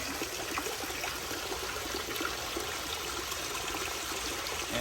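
Steady rushing water from a koi pond waterfall pours and splashes continuously, a broad even wash of flowing sound with no voices over it.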